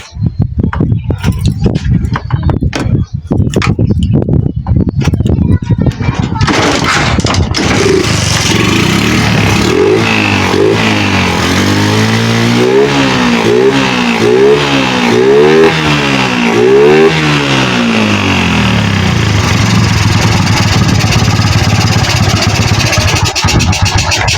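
A Suzuki Shogun motorcycle with a misfiring engine and delayed throttle response is kicked and cranked a few times, then catches and runs loudly up close, revving repeatedly in rising and falling bursts before settling into a steady run.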